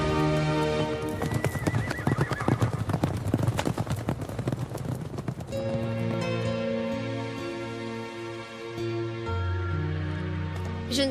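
Horses whinny and neigh loudly while their hooves clip-clop in a steady rhythm, the neighs rising above the hoofbeats close by.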